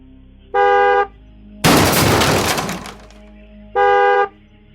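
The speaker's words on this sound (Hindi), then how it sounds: "फिर हॉर्न किसने बजाया?" A hearse's horn sounds twice, two loud steady half-second honks separated by a heavy crashing burst that fades out, close and with no talk.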